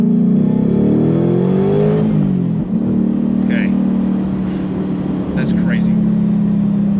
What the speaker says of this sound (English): The whooshy noises you get from these sensory blowers is definitely amplified now that we have a little bit more spin on the blower itself with this new pulley.